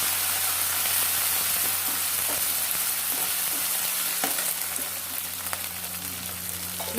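Ginger garlic paste frying in a pan gives a steady, loud, close sizzle throughout, with occasional light clicks of stirring on top.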